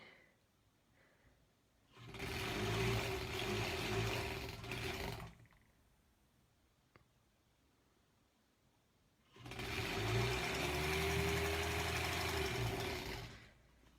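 Featherweight sewing machine stitching a quarter-inch seam on a granny-square quilt block, two steady whirring runs of a few seconds each, separated by a quiet pause.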